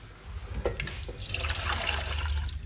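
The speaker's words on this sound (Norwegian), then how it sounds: "at vannet går oppi den beholderen" Water pours and splashes into a container, a continuous rushing gurgle building in strength, with no talk over it.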